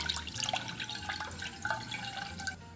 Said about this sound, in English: In a small pot over high heat, pour in the water.